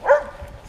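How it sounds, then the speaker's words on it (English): One short, fairly loud dog bark comes from a dog in its yard beside a trail on an October hike near Cornell, followed by a faint tail of outdoor background. "They're barking at me, but they seem to know to stay on their yard."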